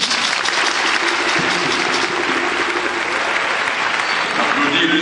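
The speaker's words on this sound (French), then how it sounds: "Jean Conan Bani, je vous demande d'applaudir" An audience at a formal launch ceremony bursts into sustained, loud applause, dense and continuous from start to finish, with voices faintly mixed into the clapping.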